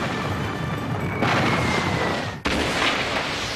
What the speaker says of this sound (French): Il est le premier à avoir équipé les bateaux de canons lourds.